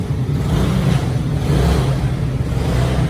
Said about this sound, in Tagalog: Ayan po ang aking motor.